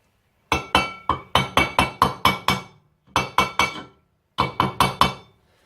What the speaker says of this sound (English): Copper hammer, very important.